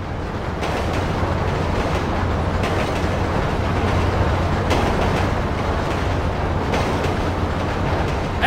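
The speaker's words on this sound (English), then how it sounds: "Train ain't stopping here, boys!" In GTA V, a train rumbles continuously along its tracks for several seconds, with a dense, steady low roar and faint clickety-clack, close and loud, with no voices over it.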